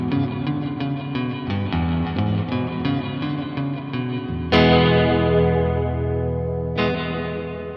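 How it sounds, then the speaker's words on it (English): Distorted electric guitar chords through an Electro-Harmonix Cathedral reverb pedal, with a quick slapback echo from its pre-delay, then two big strummed chords ringing out into long, washy reverb tails. "That's an echo caused by the pre-delay, so you can kind of have a slapback sound."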